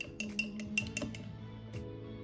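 A utensil stirs skin serum with lemon essential oil in a small glass container, giving a quick run of light, bright clinks and taps that fade out after a second or so, faint and close with no talking.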